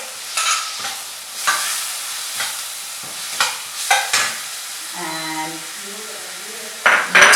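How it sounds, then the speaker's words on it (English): Tomatoes tipped into a pan of frying green beans and carrots with turmeric for an Indian sabzi curry, giving bursts of sizzling and spoon stirring scrapes, with a brief lull of faint tones before a louder clatter at the end. "what I like to do at this stage is to add in my tomatoes"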